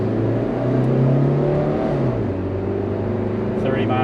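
A 1986 Toyota van pulls into 55 mph highway traffic, its engine droning and rising in pitch as it accelerates through the gears, loud inside the cabin with road noise beneath.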